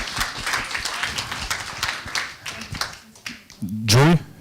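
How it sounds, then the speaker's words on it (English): Audience applause at a startup summit in Cairo, a dense patter of clapping from a crowd that thins out over a few seconds, followed by a short burst of voices near the end. "Big round of applause for Pharmacy Marts."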